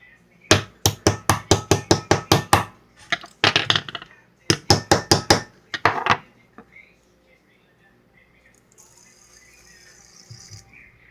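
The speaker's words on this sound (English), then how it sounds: "you take the bottom of your screwdriver and you go." A fidget spinner struck with the handle end of a screwdriver gives crisp, rapid metallic taps in three quick runs of clacks, close and loud, followed by quieter faint handling noises.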